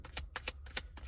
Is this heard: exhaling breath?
no